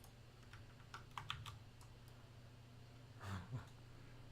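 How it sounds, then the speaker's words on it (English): Someone types on a computer keyboard, with sparse, quiet keystrokes and a short burst of clicks near the end over a low steady hum of computer fans. "I don't know why I'm typing."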